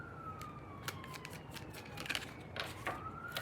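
Police sirens wail at a distance, a faint rising and falling tone running steadily under low background noise with a few clicks, no talking.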